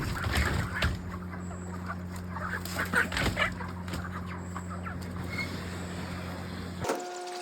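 Chickens clucking in boxes as a load of birds is weighed and packed onto a vehicle at a poultry farm, scattered clucks over a steady engine hum, ending with a mechanical thud.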